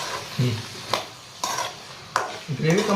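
A spoon stirs cauliflower and vegetables for a vegetable kurma in a metal pot. Sharp scraping clinks come every half second or so, with soft sizzling and low rustling between strokes.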